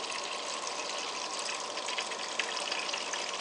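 Water from a refrigerator dispenser pours into a cup as a steady, hissing gush that continues without a break, close by and moderately quiet, with no talking.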